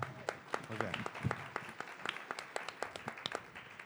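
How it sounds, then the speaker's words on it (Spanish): Scattered clapping from a small audience at a WOM business panel, sparse individual claps over a low murmur, fairly faint and thinning out. "Un aplauso, por favor, para WOM."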